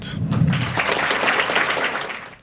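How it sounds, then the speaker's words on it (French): An audience claps to welcome a presenter, a brief wash of applause that follows a low voice at the start, builds and holds, then tapers off at the end. "d'applaudir et d'accueillir Anne Kant."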